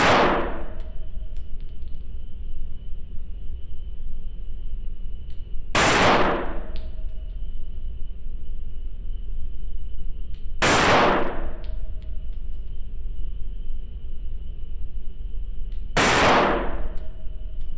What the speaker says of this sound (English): we'll try to shoot some accuracy groups with it